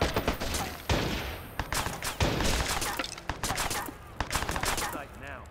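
Watch Dogs gunfire rattles through loud bursts of repeated shots separated by brief pauses, with a mix of sharp single cracks and rapid automatic strings across the whole stretch.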